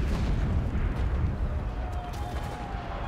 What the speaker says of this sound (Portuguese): um monte de explosão na minha cara